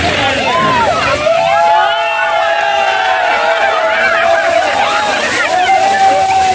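Heavy flow of water gushing from a 10-inch pipe at Janaki Chowk in Dharan, a broad rushing wash running steadily throughout, with people talking and calling over it nearby.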